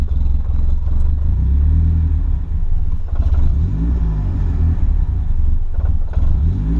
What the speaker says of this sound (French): Ah, mais le ralenti, il est trop bas là, Jules.